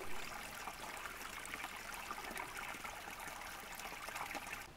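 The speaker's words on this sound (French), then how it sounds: "Écoutez ce joli ruisseau chanter." A small woodland stream babbles and trickles steadily, a continuous close wash of water over stones with no voices.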